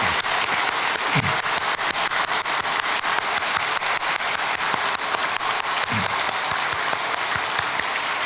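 A church congregation at a New Year prayer service applauds, dense steady clapping from a large indoor crowd sustained for several seconds with no talking.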